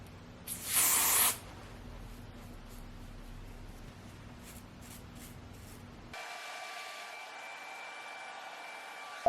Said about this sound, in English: when you use a lace adhesive spray, you have to pull on your lace while it is drying